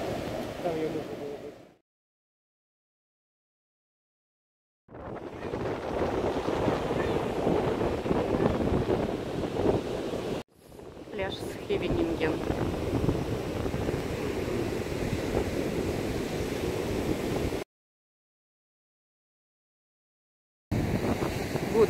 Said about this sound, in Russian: Смотри, какой прилив.